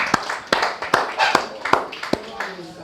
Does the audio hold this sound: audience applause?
yes